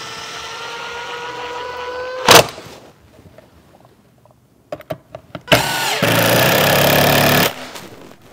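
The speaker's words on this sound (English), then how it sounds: "This is called an impact driver. It's not a normal sort of drill. It's got extra power." Cordless impact driver driving screws while assembling a wooden bluebird house, with two loud bursts of whirring and hammering rattle separated by a quiet pause with small clicks and knocks.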